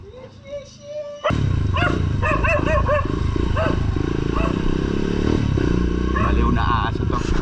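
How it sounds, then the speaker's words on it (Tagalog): A dog barks repeatedly, in sharp rapid yaps close by, over the loud continuous engine drone of a motorcycle on a solo ride near Mainit Falls in Antipolo, Rizal, with a person speaking. "Baliw na aso to."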